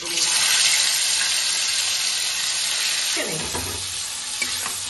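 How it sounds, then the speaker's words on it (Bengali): Steady, bright sizzling of chicken frying in hot ghee with whole spices for biryani, with a few scraping clinks of a utensil against the pan near the end. "আর মাংসটা আস্তে আস্তে ছেড়ে দেবো।"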